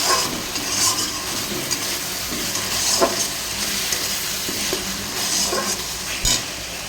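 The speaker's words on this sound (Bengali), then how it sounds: "মশলা প্রায় কষা আমার দিয়ে মাংসটা দিয়ে দেবো" Meat fries in a spiced masala, giving a continuous close sizzle broken by scraping stirs and occasional sharper spatters.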